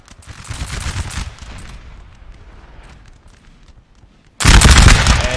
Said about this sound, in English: A volley from the Frenchies.